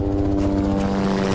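Helicopter in the video game Chaser, a steady rotor and engine drone with a rapid rhythmic chop, close and continuous.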